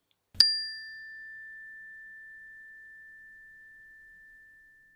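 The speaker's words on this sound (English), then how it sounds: "We're transitioning at the sound of the bell." A single meditation bell is struck once at a guided springtime walking meditation, giving a clear bright ding that rings alone and fades slowly into silence over several seconds.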